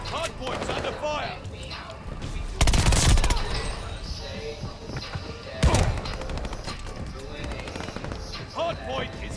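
Gunfire in the Call of Duty: Vanguard video game, with two loud close bursts of automatic fire and scattered shots in between, mixed with game voices and other battle noise.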